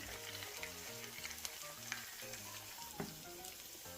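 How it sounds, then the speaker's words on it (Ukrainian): Steady crackling sizzle of pumpkin potato pancakes frying in hot oil, with occasional sharper pops over a continuous hiss. "Смажимо деруни на розігрітій олії."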